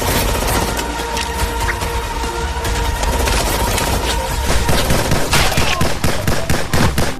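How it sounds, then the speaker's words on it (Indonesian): Toy gun firing a rapid, continuous burst of electronic shooting effects, loud and close, with a steady buzzing tone running underneath and a sharper run of pops near the end; no speech. "mainan tembak-tembakan"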